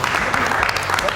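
A small audience at a fashion show pre-production meeting bursts into brief clapping and cheering, mixed with voices, close and lively.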